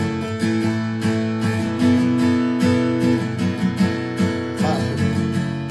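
Acoustic guitar chords strummed at a faster tempo in a steady rhythm pattern, close and full with ringing sustained notes, with no talk.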